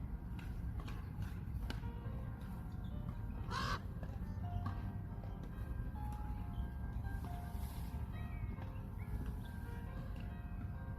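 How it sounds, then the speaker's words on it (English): A crow-like bird caws a few times at a distance outdoors near a parked van, fairly faint over steady low traffic-like rumble and background music. "Sorry, I hear a bird."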